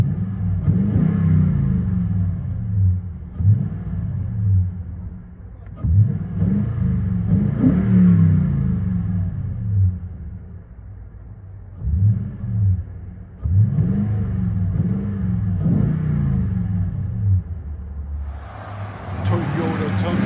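Aftermarket exhaust on a Toyota Tundra with the 5.7L V8, heard from inside the cab: repeated deep revs rising and falling in several bursts, loud and rumbling, with a voice at the end.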